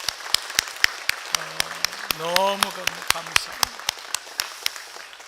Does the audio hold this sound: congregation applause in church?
yes